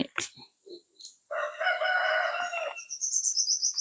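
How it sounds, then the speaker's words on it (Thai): A rooster crows loudly and close, one long drawn-out call following a few short clucks and chirps, with trailing bird calls afterward. "ได้ยิน เสียงไก่ไหมครับ"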